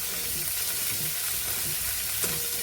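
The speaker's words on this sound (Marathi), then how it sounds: "काळे वाटाणे, आपले चणे आणि लाल चणे एवढे कडधान्य फक्त आपण घालूया आणि हलकंसं परतून घेऊया." Black peas, chickpeas and red chickpeas sautéed in a pan, giving a continuous broad sizzling hiss at moderate level with a single brief knock near the end and no speech.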